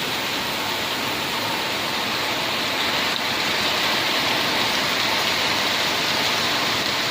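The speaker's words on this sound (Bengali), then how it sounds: "এই যে এখন শুরু হয়ে গেছে বৃষ্টি" Rain falls steadily, a dense, even hiss that continues without pause for the whole stretch.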